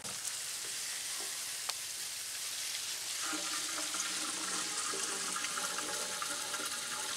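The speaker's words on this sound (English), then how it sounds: "Rinsing it out." Water runs steadily from a tap at a campground while something is rinsed out, a soft continuous splashing hiss with no talk, slightly changing tone partway through.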